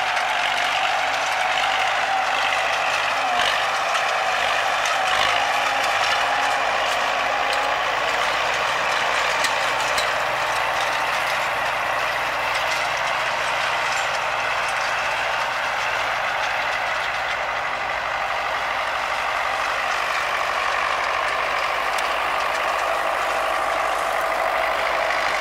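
An MTZ-80 tractor pulling a KPS-4 cultivator through a field, with a steady droning engine and continuous rattling, clanking mechanical noise throughout.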